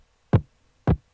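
Kick drum combining a distorted layer and a knock layer, struck twice about half a second apart, each hit a short, punchy low thump with a sharp attack, dry and close with silence between.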